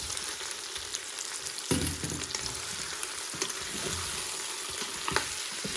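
Precooked potatoes tipped into an Instant Pot and stirred, giving a soft sizzle with scraping and tumbling under a steady frying hiss, close and moderately quiet.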